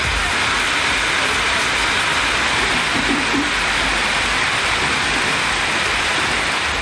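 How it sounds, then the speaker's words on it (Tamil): Heavy rain pours down in Keelaiyur and Thalaignayiru in Nagapattinam district, a loud, dense, unbroken roar of rainfall from start to finish. "நாகப்பட்டினம் மாவட்டத்தில் கீழையூர், தலைஞாயிறு உள்ளிட்ட பகுதிகளில் கனமழை கொட்டியது."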